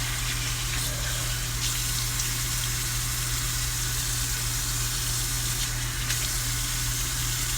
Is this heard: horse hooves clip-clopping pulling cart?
no